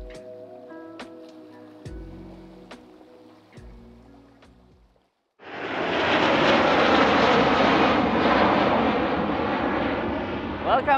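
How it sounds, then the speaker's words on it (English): At Jeju Airport, a quiet stretch of faint clicks and tones gives way to a loud, steady roar of an airplane engine that swells abruptly and holds, broad and rushing, to the end. "Let's record some airplanes."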